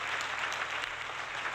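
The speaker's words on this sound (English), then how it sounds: "I gotta wait for the virtual audience to finish clapping" A virtual audience applauds during a live retro gaming stream, with dense, even clapping that holds at a steady level and has no voices over it.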